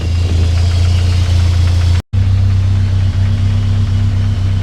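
A 1984 Toyota 4Runner engine idling close by, a loud, steady low hum with a faint regular knock, broken by one brief cut in the sound before it carries on.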